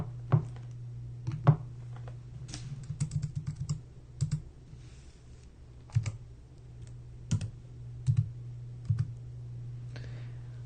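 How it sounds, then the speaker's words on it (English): Computer keyboard typing during a Saturday night livestream: bursts of clicky keystrokes, some rapid and some sparse, sound close over a constant low electrical hum, with no talking. "when I'm typing, can you guys hear the keyboard?"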